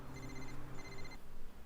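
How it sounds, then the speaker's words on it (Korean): A telephone rings with an incoming call: two bursts of an electronic trilling ring, each just under half a second long. The ring is fairly loud against a dense, noisy background. "로크에게 전화가 한 통 옵니다."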